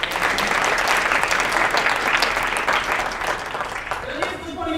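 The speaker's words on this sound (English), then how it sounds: "you should give her a round of applause" An audience at a poverty simulation event bursts into steady, dense applause for the event organizer, many hands clapping loudly and evenly before easing off slightly toward the end, with faint voices mixed in.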